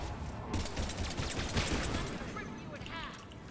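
Rapid pistol fire from the Mass Effect 3 video game, a quick burst of sharp cracks over dense combat noise with a continuous din of battle throughout.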